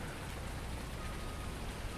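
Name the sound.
rain in the video game Farming Simulator 19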